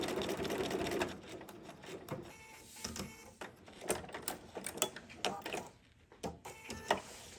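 Sewing machine taking a few final stitches on a pattern, a fast mechanical rattle that starts steady, then breaks into short uneven bursts and clicks, heard up close without talk.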